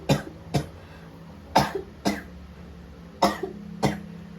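A sick person coughs in six sharp, separate bursts, spaced roughly half a second to a second apart, close to the microphone and with no talking between them.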